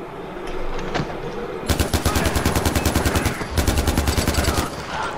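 Rapid automatic gunfire in the video game Far Cry 4, a few scattered shots followed by two long, fast, loud bursts at a steady rhythm.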